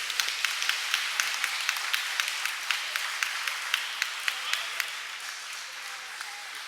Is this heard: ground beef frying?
no